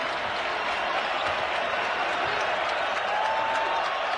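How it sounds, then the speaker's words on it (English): A college basketball arena crowd cheers and applauds during a Baylor game, a dense, loud, steady roar of clapping and voices that holds evenly throughout. "Crowd loving it."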